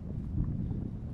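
Steady wind blows outdoors as a low, rumbling buffet against the microphone, close and fairly loud throughout a brief stretch with no other clear sounds.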